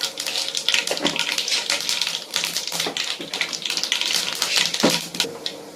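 Mustard seeds and urad dal splutter and pop in hot oil, a dense, continuous crackle of sharp bursts close by, with no talking.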